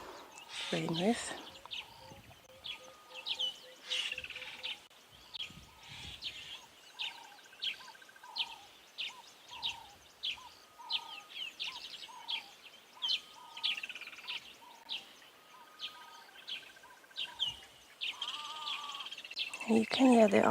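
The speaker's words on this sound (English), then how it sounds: "You can hear there are a lot of bird calls around us in the drainage line." Many birds call and chirp around a wooded drainage line at sunset on an African safari, with repeated tonal whistles and chatter from several directions, mostly moderate in level, and a voice speaking briefly near the start and end.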